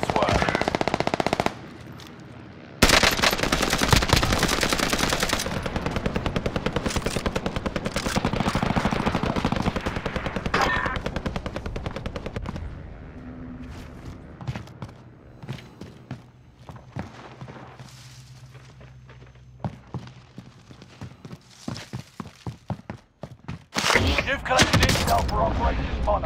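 Video game gunfire in a Kong vs Godzilla event: loud bursts of automatic fire and shots come in clusters through much of the stretch, with quieter gaps in the middle and fresh volleys near the end, and some talk mixed in.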